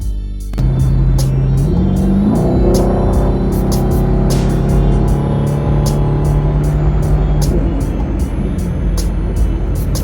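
A Camaro SS with the L99 V8 and an aftermarket Powr-Flo throttle body idles, then revs up with a rising, rumbling engine note that holds loud and close throughout, with a faint repeating tick above it.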